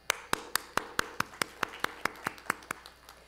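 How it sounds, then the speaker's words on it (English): About fourteen sharp, evenly spaced claps ring out from a small number of hands for Mayborn students at a community gathering, each crisp and distinct, with a light room echo between them. "You all deserve a terrific round of applause"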